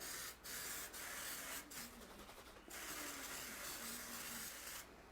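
Cooking spray hisses into a 13 by 9 by 2 baking pan for brownies, a soft, faint spray in a few short bursts followed by longer sustained hissing.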